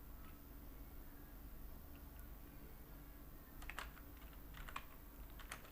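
Faint computer keyboard typing while code for a JSP web application is written, a few sparse clicks at first, then a quick cluster of keystrokes over a steady low hum.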